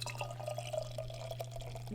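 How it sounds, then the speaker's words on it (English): Southern Grist Brewing Mixed Berry Cobbler beer poured from a can into a glass, a close, continuous trickling and splashing stream over a low steady hum, without speech. "But let's go ahead and get it poured."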